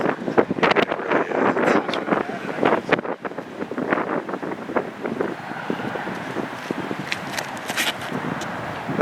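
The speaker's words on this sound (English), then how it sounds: "It's like 40 mile per hour wind gusts right now." Strong wind gusts of around 40 mph buffet the microphone outdoors in loud, uneven rushes of roaring noise, with people talking over them.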